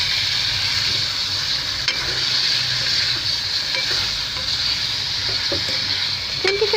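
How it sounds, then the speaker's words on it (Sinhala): Chicken pieces sizzle steadily in a kadai pan while being stirred, with a constant hiss of frying and occasional scraping clicks of the spoon against the pan. "චිකන් ටික එකතු කරලා මේ විදිහට කවලම් කරන ගමන්"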